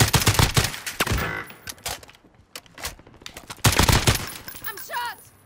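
Call of Duty Modern Warfare gunfire, several sharp bursts of rapid shots in clusters with pauses between, close and loud, with speech mixed in.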